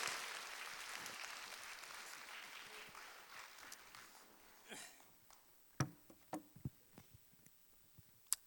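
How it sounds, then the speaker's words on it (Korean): Congregation at Ansan Dongsan Church applauding to welcome a pastor to the pulpit: fairly faint, dense clapping that thins out and fades, leaving a few scattered sharp claps and knocks in a quieter room. "우리 이한길 목사님 나오실 때 우리 박수로 격하게 환영하며 모시도록"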